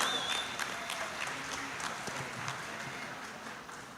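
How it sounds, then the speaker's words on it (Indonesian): Audience applause at a Christmas celebration of an HKBP church district, a spread of clapping at moderate level that holds steady for a few seconds and tapers slightly, with no voices on top. "Tepuk tangan."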